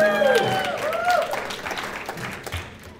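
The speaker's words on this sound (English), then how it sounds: "Let's have a cheer in the middle of there." An audience at a fundraiser auction cheers and applauds, a burst of clapping with whoops and voices that gradually fades.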